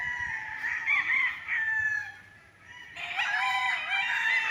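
A rooster near a chicken coop on a farm lot in Pagsanjan, Laguna crows loudly twice in long strained calls, with hens clucking faintly beneath.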